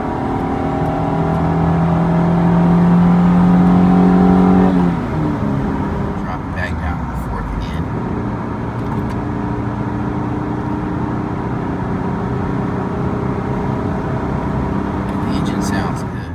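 A 1993 Honda Del Sol Si engine revs up with a rising, steady roar, then eases off into a lower rumbling drone as the car keeps moving.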